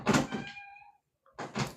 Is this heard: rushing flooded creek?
no